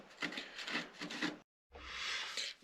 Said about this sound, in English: I'm taking a chisel and very carefully scraping off the excess glue